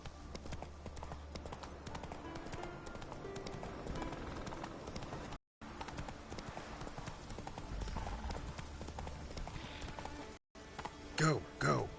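Roach, the horse in The Witcher 3, gallops with fast, steady hoofbeats throughout, broken by two brief silent gaps, while a voice talks over the action near the end.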